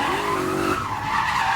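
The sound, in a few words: BMW E28 V8 drift car skidding on e-brake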